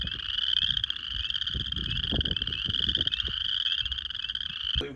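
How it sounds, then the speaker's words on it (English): A chorus of spring peepers, tiny tree frogs, calls steadily at a campground at Prophetstown State Park, their dense high peeping shrill and continuous throughout, with faint low rustles and a brief bump near the end. "we had some peepers that we saw or heard actually"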